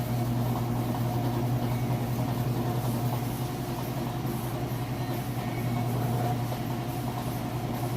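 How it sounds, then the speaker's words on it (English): A Whirlpool washer spinning at full speed gives a loud, steady motor hum with a strong low drone and an even whir that holds unchanged throughout, with no speech. "That way you know it's spinning nice and fast and it's nice smooth operation as well."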